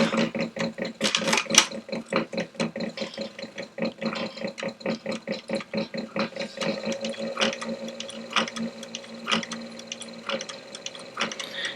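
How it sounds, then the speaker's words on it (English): A sewing machine stitches leather coasters, its needle pounding in a fast, steady run of rhythmic mechanical clatter that slows and turns uneven toward the end, close and alone without speech. "sewing with a machine is an art and a skill all in itself"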